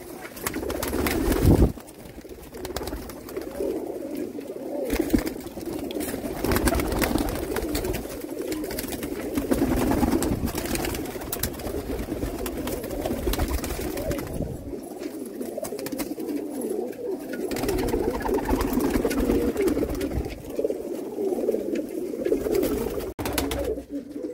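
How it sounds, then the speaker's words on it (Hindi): Many pigeons kept for sale in Jammu coo in a low, continuous throaty chorus, close and overlapping, rising and falling in bursts with no clear talk. "बेहतरीन कबूतरों का एक से बढ़कर एक लाजवाब पिजन आए हैं"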